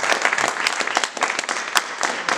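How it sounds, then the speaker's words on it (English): A brief round of applause rises from the audience at a panel event at Harvard's Berkman Klein Center, dense, even clapping heard at moderate distance without speech. "I just would like to, with a group here, throw up a round of applause for Joan."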